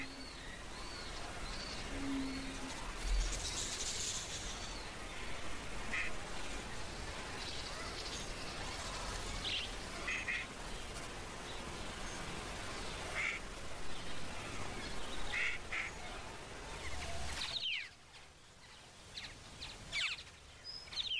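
An Australasian figbird calls in the Australian wild, giving repeated quacking, duck-like notes as it mimics other sounds over a steady, rain-like hiss before a brief lull near the end.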